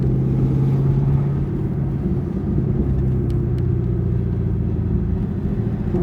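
A 650-horsepower Camaro ZL1 1LE with a manual gearbox, its engine giving a loud, deep rumble that swells and eases slightly as the clutch is let out and gas applied, heard steadily from inside the car.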